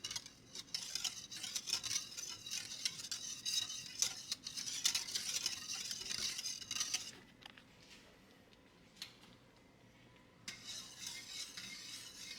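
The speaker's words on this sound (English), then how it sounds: "add the sago to the pot and stir with a whisk or a spoon" A whisk stirring sago pearls in a pot of boiling water makes a brisk, scraping metallic swish for several seconds. It pauses briefly, then resumes near and fairly quiet.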